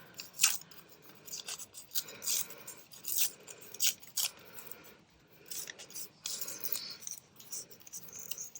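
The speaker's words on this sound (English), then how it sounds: "I'm going to cut off or rip off any straight lines." Paper being torn by hand for a grungy vintage craft, a series of short close rips and scratchy tearing bursts with quiet pauses between.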